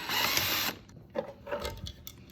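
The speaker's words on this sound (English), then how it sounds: "We'll simply drill those out by using a bit that's a little bit larger than the hole at the end of the rivet." Power drill bores out rivets on a passive direct box with a 1/4-inch jack, a loud whirring burst at first, then quieter short grinding and clicking bites as the bit works the metal.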